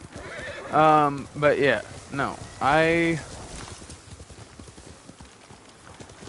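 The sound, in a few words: horse neighing and hooves clip-clopping in video game Ghost of Tsushima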